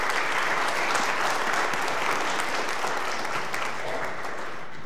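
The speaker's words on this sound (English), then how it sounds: "Let's give them a round of applause" A church congregation applauds during a Sunday worship service, producing a steady wash of clapping that stays even throughout and fades slightly at the close.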